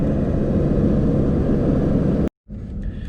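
A 2017 third-generation Toyota Tacoma TRD Off-Road with an MBRP turndown exhaust cruises casually through the city, giving a steady, deep exhaust drone that cuts out abruptly for a moment before resuming.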